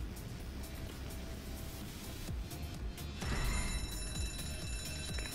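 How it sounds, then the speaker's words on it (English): An alarm blaring in the Zombi video game, a steady loud ringing tone over noisy game ambience that grows slightly louder partway through. "It was rigged to the alarm."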